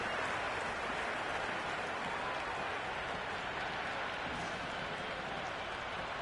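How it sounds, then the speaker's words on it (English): Stadium crowd at an IPL cricket match between Chennai Super Kings and Kings XI Punjab roars and applauds in a dense, continuous wall of cheering and clapping that stays loud and steady throughout. "The crowd is electric right now."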